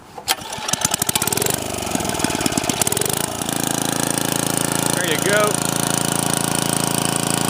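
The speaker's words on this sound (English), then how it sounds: "So I'll go ahead and fire this thing up here for you guys. You can see it starting and running here." A Troy-Bilt rototiller engine is pulled to start, sputters into life and then settles into a steady, loud, even running drone, with someone speaking briefly over it.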